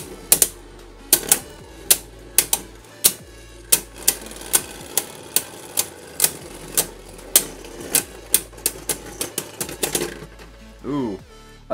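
Beyblade Burst God spinning tops, including Kreis Satan, clashing in a plastic stadium, giving sharp repeated clicks and clacks in quick irregular bursts, close and loud, ending with a short rattling spin-down.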